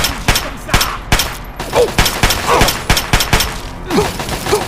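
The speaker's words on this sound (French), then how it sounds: "Fusil d'assaut." Assault rifle gunfire in the video game Fallout 3 crackles in rapid, uneven bursts of close, punchy shots, with some ricochet-like pings scattered among them.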